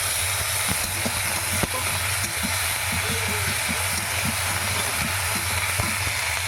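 Ginger and cumin paste sizzles loudly with fried onions in a hot pan, a steady dense hiss with small crackles and occasional clicks running throughout.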